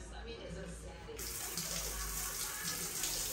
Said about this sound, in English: Let's test the shower head.